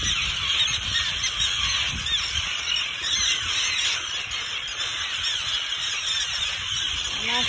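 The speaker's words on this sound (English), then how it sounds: "Annoyed birds." Geese honk repeatedly and close by over steady broadband background noise, sounding agitated, with no talking.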